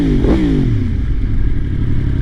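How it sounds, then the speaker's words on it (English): Motorcycle engine while riding in a small parking lot, a loud rumbling drone with a quick pitch sweep near the start, continuous and close with rushing noise, no talk. "It feels so good to be back on a motorcycle."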